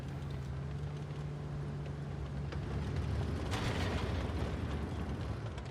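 Muffled tank gunfire and mechanical rumble in World of Tanks Blitz, a dull boom standing out around the middle over a steady low engine drone with no talk.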